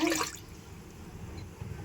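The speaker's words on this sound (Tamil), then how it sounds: "இப்போ தண்ணி ஊற்றிக்கலாங்க" A short burst of water splashes into a pressure cooker prepared for sakkara pongal, loud at first and then fading into a low bubbling rumble.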